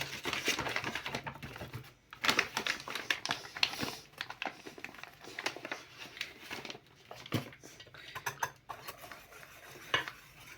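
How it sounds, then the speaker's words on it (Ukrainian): Crepe batter of flour, starch and oil being stirred in a bowl for mushroom-filled crepes: continuous close scraping and clinking of a utensil against the bowl, with irregular bursts and short pauses. "Вимішую тістечко."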